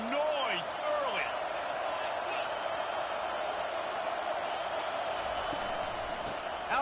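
Crowd noise at a football stadium holds as a steady, dense roar throughout, with scattered whistles and higher calls over it.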